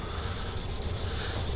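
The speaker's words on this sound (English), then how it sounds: "Just a light sanding and back with blue, that might do it" Light sanding across a stained guitar body, a soft, continuous rubbing rasp with steady back-and-forth strokes, close and fairly quiet.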